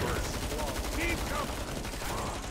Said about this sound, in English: now let's test our M64